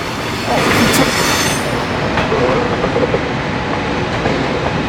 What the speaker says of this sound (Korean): 걸어가는데 기차도 지나가네요.